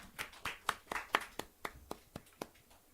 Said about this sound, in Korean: 우리 하나님께 영웅 박수 올리겠습니다.